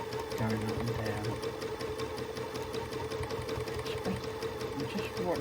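Sewing machine running fast and steady for free motion quilting, needle going up and down in a continuous close mechanical whir and clatter.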